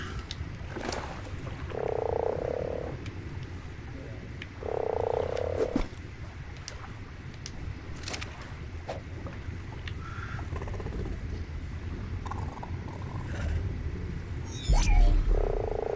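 A frog in ARK: Survival Evolved, on the Crystal Isles map, gives a few loud, deep croaks spaced several seconds apart over a low ambient rumble, with no one speaking.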